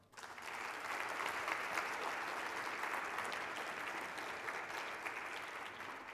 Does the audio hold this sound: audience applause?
yes